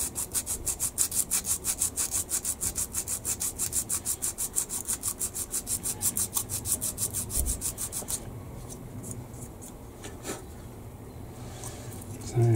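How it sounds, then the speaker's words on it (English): Rhythmic rasping strokes of sandpaper smoothing filler flat on a Revell 1/32 Gulf War Tornado plastic model kit, steady and close for about eight seconds, then stopping into quiet handling noise. "having sanded this flat, needs a bit in there and a little bit in there and in there"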